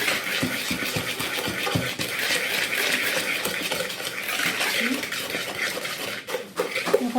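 A whisk beats birthday cake batter in a bowl, scraping and clattering steadily against the sides with a continuous busy rhythm, close and fairly loud, with no talking.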